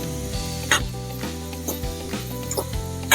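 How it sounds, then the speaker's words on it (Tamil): Brinjal sautés in oil for a green tomato curry, with close sizzling broken by irregular spoon or spatula scrapes and clinks against the pan, fairly loud and without talk. "நல்லா கத்திரிக்காய் வதங்கணும் எண்ணெயில்."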